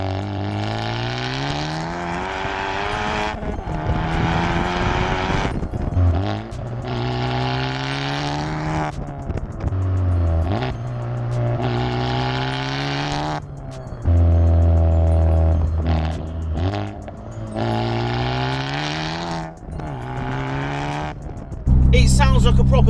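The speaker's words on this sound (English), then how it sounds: "The exhaust is unbelievable." A modified Honda FK2 Civic Type R with a custom exhaust and about 370 bhp revs and accelerates repeatedly, its loud engine note climbing through the gears with rising pitch sweeps, pops and brief lifts between pulls.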